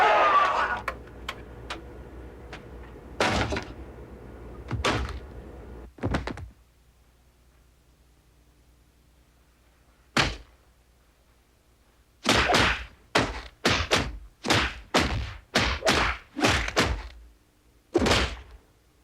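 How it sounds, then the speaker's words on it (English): Isolated fight sound effects cut for a film play alone: a flurry of sharp hits up front, then a pause, then a rapid run of punchy thuds and smacks with a final lone impact. "I'll play it without the production, but with just those sound effects isolated by themselves that have been cut."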